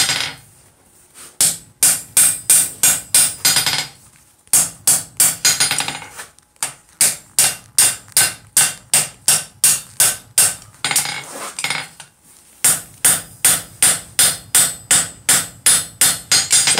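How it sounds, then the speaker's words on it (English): Close, loud hammer blows ring on steel over an anvil as a vise is forged and planished, falling in fast rhythmic bursts of about a dozen strikes separated by short pauses. "Now all I'm doing is I'm really just kind of planishing stuff up."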